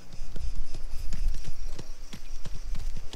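Horse hooves clip-clop steadily at a walking pace in the video game Mafia: The Old Country, close and clear, with a faint voice underneath.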